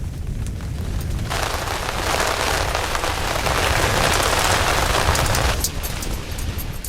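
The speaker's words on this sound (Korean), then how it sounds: "우박이다." Hail falls during a sudden spring storm in Mongolia's Gobi Desert, a dense, loud hiss of pellets hitting the ground that swells and holds for several seconds before easing slightly.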